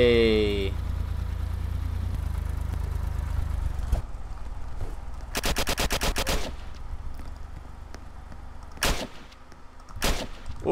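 Gunfire in the video game Apocalypse Rising comes as a sustained rapid burst mid-clip and then two short loud bursts, heard over a steady low vehicle engine drone.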